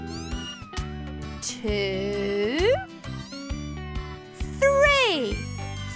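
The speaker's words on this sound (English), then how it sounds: "3 beautiful kittens." Newborn cartoon kittens meow in high, sliding cries over light, bouncy music, several meows in a row, while a voice counts along.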